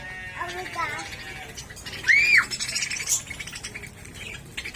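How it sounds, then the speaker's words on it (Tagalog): Several birds chirp and squawk at a zoo theme park in Tagaytay, with a sharp call standing out near the middle, while people talk over the calls. "Oh, ang daming birds."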